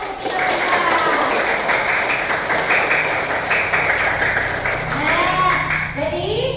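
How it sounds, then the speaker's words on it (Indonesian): Children clapping together in a classroom lesson, a busy burst of applause with some voices and cheers rising over it toward the end. "tepuk tangan untuk kita semua"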